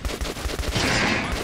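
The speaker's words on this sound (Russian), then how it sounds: "Попробуй выстрелить в центр груди обычного манекена." Rapid gunfire at a training mannequin in Metro Last Light: a quick string of loud, close shots in fast rhythm, blending into a denser burst toward the end, with no talking.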